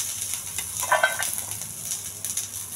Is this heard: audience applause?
no